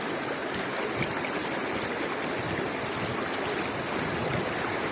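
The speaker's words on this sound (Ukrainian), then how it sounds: "Отака річка." Mountain river at Gordon Falls, New Brunswick, Canada, flowing steadily in a constant broadband rush of water with no voices.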